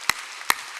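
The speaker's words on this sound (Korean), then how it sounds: "박수 치려면 세게 치라고" Two sharp, hard hand claps land about half a second apart from a church congregation during a sermon, each a brief, loud snap over quiet room tone.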